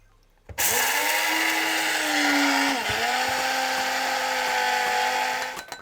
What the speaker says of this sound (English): I've just got a small coffee grinder here, and let's just blitz it.